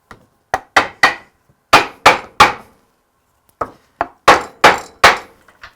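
A wooden tenon is hammered into a mortise in a workshop: about a dozen loud, sharp knocks come in three quick bursts separated by short pauses, close up, with no talking.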